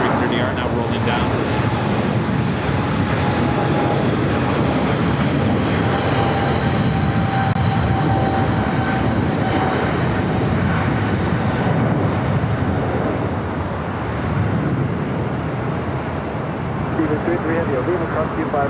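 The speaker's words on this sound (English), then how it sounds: "speaking of 300s, the 777-300ER now rolling down." Boeing 777-300ER rolling down the runway at LAX, a loud sustained jet roar with a faint high whine, steady and dense throughout.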